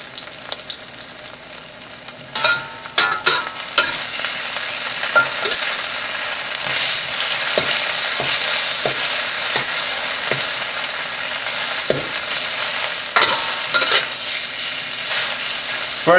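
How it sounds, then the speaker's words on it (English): Pork shoulder stir-fried in a hot wok with vegetable oil gives a loud, continuous crackling sizzle, punctuated by sharp clanks and scrapes of the utensil against the metal, close up with no voices. "We're gonna stir fry the pork for about"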